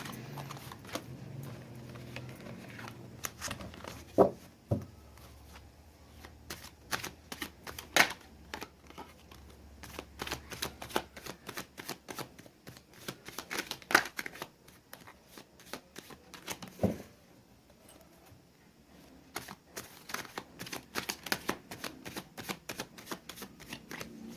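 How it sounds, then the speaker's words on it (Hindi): Tarot cards are shuffled by hand for a Hindi yes-or-no reading, making fast bursts of crisp riffling and flicking at close range. The sound stays quiet, with irregular clusters of sharp card snaps across the whole stretch. "मैं कार्ड सफलिंग करती हूँ"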